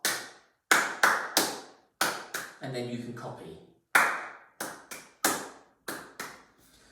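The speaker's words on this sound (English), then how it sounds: "you might get your teacher to clap the first bar" Sharp hand claps tap out a rhythm-reading exercise in spaced groups with brief gaps, each clap crisp and close, broken midway by a short spoken phrase.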